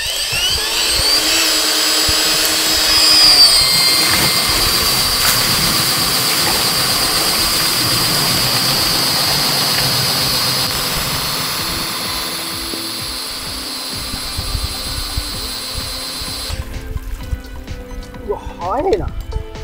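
A Makita pump powered by an 18V battery runs steadily, a continuous loud motor drone with liquid filling sounds, easing off near the end before the motor stops and brief voices follow.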